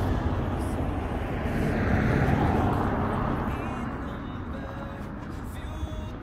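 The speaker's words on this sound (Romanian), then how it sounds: "pornim și mașina asta, auzim cum pornește" A car engine cranks and runs on a roadside in freezing weather around -10°C, a steady, loud low rumble that swells and then settles into an even idle, with no talk over it.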